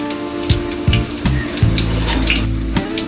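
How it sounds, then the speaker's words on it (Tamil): Curry leaves and pinched dried red chilies crackle and sizzle loudly in hot oil with popped mustard seeds, a tempering for sambar rice, with sharp bursts over a continuous close fry and a low steady hum. "கடுகு நல்லா பொரிஞ்சு வந்ததும் கருவேப்பிலை ஆட் பண்ணி கருவேப்பிலை நல்லா பொரிஞ்சதும் காஞ்ச மிளகாய் 2 போட்டுக்கலாம்"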